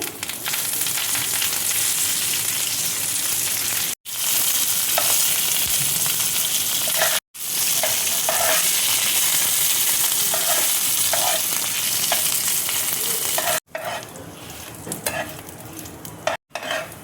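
Tamarind and curry leaves sizzle loudly in hot oil in a pan while making South Indian gun powder, a continuous crackling fry with occasional stirring scrapes and brief breaks.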